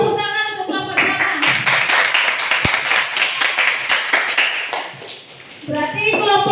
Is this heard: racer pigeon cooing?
no